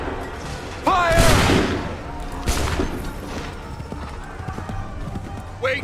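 Musket volley fired in the Assassin's Creed III video game: a loud burst of gunfire near the start, a second sharp report shortly after, and a brief shout between them and at the end, with battlefield rumble underneath.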